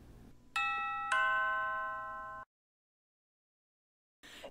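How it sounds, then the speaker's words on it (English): A cartoon doorbell rings out a bright two-tone ding-dong chime, with the second tone ringing on and fading before it cuts to silence, then a short burst of noise at the very end. "Ding dong, who's there?"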